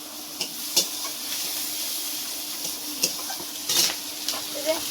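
Garam masala, ginger and garlic hit hot oil in a pan after cumin, chili and five-spice tempering, giving a steady close sizzle broken by a few sharp stirring clinks of a utensil against the pot.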